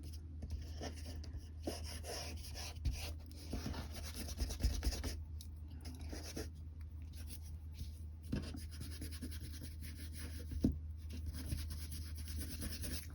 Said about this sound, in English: once your ink is dry, is to rub out all your pencil lines